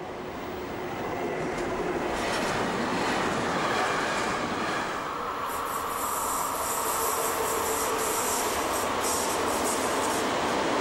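A train rolls past steadily with a continuous rumble and faint high squeals of wheels on rails, moderately close.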